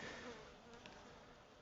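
Faint, steady buzzing of honeybees, a soft hum with no clear breaks.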